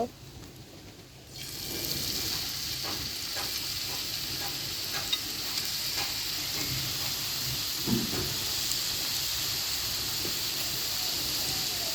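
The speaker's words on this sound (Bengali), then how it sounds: "মিডিয়াম আছে সুন্দর করে ভেজে নিতে হবে" Steady sizzle of pakoras frying in hot oil, beginning after a quiet second, with occasional soft clinks and stirring sounds throughout.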